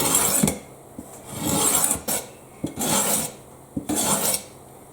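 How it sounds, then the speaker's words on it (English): A kitchen chopping knife with a basic black plastic handle is drawn across the stones of an entry-level sharpening system, giving four long, close, rasping scrapes in a steady back-and-forth rhythm, with short pauses and light taps between strokes. "I'm just sharpening my favourite kitchen knife on my favourite entry-level sharpening system."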